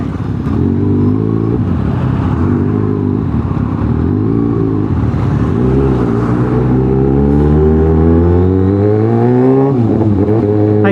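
Kawasaki ZX6R sport motorcycle engine revving loudly and steadily up close, with pitch swells and rises through the run and a sharp rev climb near the end, alone without talk.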